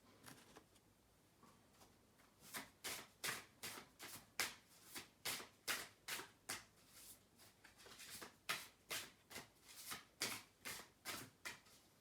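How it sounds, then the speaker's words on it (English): A deck of tarot cards is riffled and shuffled in a steady run of crisp, rhythmic bursts, close and fairly quiet, continuing for about ten seconds with no talking. "we will just shuffle the cards one more time"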